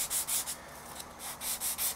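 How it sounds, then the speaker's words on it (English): Hand sanding of guitar wood with 180-grit paper on a small soft block, heard as a close run of even back-and-forth rasping strokes in a regular rhythm. "This is 180 on this little soft block, and I don't want to bear down too hard or I'll sand a profile into it."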